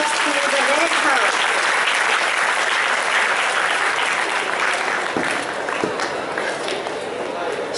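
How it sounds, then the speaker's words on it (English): A school debate competition audience claps continuously and loudly for the red house team, a dense, even wash of applause with voices mixed in beneath. "give a big round of applause to the red house"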